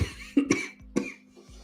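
A person coughs several times in quick, rough bursts, close by, with brief pauses between them.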